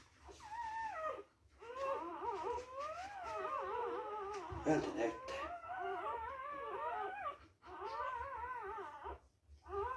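Newborn puppies whimper and yip almost continuously in high, wavering cries, close by, with brief pauses between bursts.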